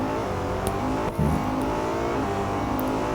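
A BMW M5 engine in Real Racing 3 revs hard, drops briefly at a quick gear shift, then climbs again, loud and close throughout without talk.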